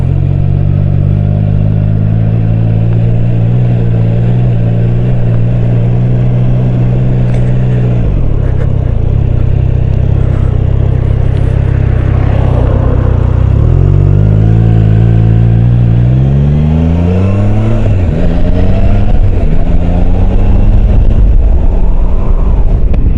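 A Triumph Tiger 660 motorcycle engine idles steadily, then pulls away and accelerates through the gears, loud and close with wind noise.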